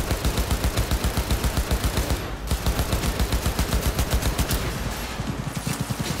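Rapid automatic gunfire from a weapon in Cyberpunk 2077, loud sustained bursts of evenly spaced shots with a short pause midway, then firing resumes.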